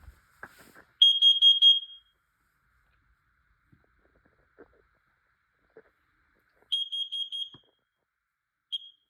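A smoke alarm, set off with its test button, gives short shrill high-pitched beeps in two separate bursts with a brief chirp at the end, separated by near silence and faint handling clicks.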